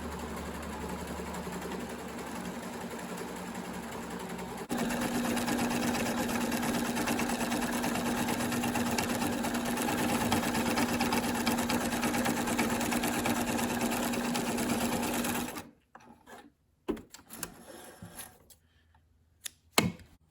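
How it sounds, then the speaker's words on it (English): Sewing machine stitching a seam in seat upholstery for an MG TF, a steady continuous mechanical whir that runs loud and unbroken for about fifteen seconds, then stops abruptly, leaving scattered small handling clicks. "I'm gonna sew it, just like that"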